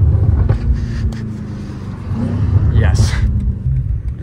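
Deep rumbling exhaust from a BMW M8 Competition with catless downpipes and Eventuri intakes, steady low drone with a rising whistle-like spool near the end, heard from inside the car with a brief spoken word.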